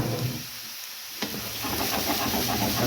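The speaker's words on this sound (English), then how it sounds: "And then just mix and make sure that all of that is covered with soy sauce." Egg fried rice coated in soy sauce sizzles steadily in a hot pan as it is stirred, a continuous hissing fry with a brief scrape partway through.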